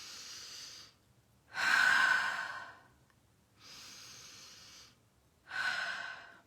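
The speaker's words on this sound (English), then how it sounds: "Take a breath." Two slow, deep breaths, each a drawn-in inhale followed by a longer, louder sighing exhale, close and alone in a quiet setting.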